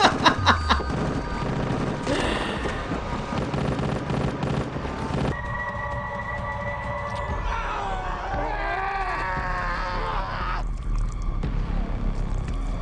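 Gunfire and booms from a zombie TV drama fill a dense, chaotic action soundtrack, with rapid shots at the start and sustained noise mixed with music and effects throughout.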